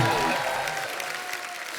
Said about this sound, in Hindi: जोरदार तालियां हो जाए बाबा।